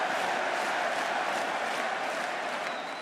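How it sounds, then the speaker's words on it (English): A large crowd in an esports arena at a League of Legends event makes a steady, loud, dense roar of massed voices that stays level throughout. "the whole crowd is chanting for Keria"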